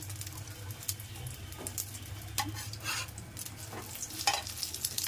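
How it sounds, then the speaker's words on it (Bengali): Bread slices frying in a pan for a crispy snack, giving a steady soft sizzle with light scraping and clinks of a spatula, close and continuous with no talk. "এখন এই যে এভাবে প্রত্যেকটা ব্রেড ভেজে নেব"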